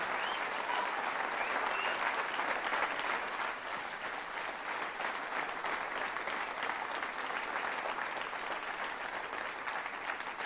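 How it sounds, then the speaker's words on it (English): Audience applause at the 2004 WEPF ladies pool final, sustained even clapping from a crowd, heard from a distance at a moderate level with no talk, holding steady for the whole ten seconds. "I think she deserves a round of applause"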